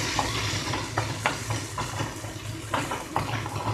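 Green peas roasting in a pan for poha, a soft sizzle with a few scattered scrapes and taps of a stirring spoon, quiet and close.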